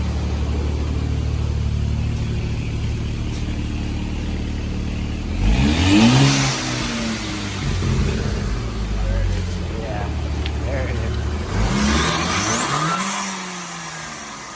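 A VW Mk5 GTI with a new downpipe, idling with a steady rumble and then revved hard twice in loud rising-and-falling bursts with turbo whoosh, heard up close alongside people talking.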